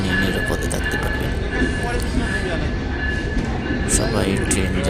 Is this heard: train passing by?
yes